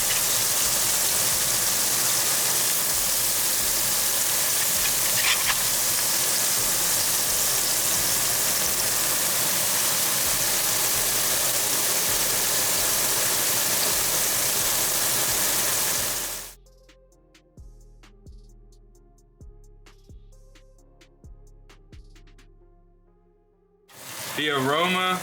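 Wagyu steak searing in Wagyu fat, a loud, steady broadband sizzle with a low hum underneath that cuts off abruptly about two-thirds through, leaving quiet background with faint clicks before the sizzle briefly returns at the end.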